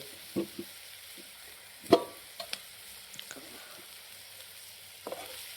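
Chopped onions fry in a pan over a traditional wood-fired clay stove, a soft low sizzle punctuated by a few sharp clinks and scrapes of the stirring spoon, fairly quiet and close with no voices.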